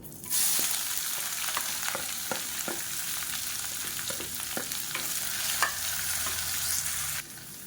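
Sliced onion and green chillies frying in a hot pan, a steady oily sizzle with intermittent stirring clicks and scrapes of a spatula, close and continuous with no talking.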